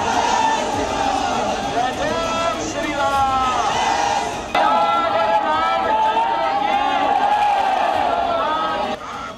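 A large crowd at a Bihar election rally for Yogi, a dense roar of cheering, whoops and babble, mostly steady and loud throughout.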